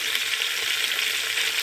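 Cauliflower, potato and other vegetables fry in a pan with a steady, continuous sizzle, close and even throughout with no voices.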